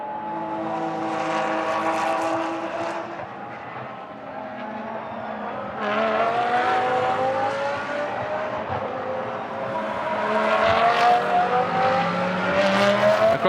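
A GT race car on the Moscow circuit screams past, its engine note rising and falling through gear changes as it passes, followed by another car's loud engine surging in, continuous and fairly near.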